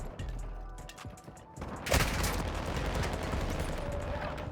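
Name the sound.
shotgun fire in the video game Modern Warfare 2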